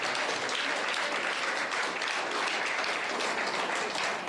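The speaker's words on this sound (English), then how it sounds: "Let's give them a huge round of applause." Broad, even applause from an audience at a Human Rights Day and constitution anniversary event, a dense continuous wash of many hands clapping at steady loudness throughout.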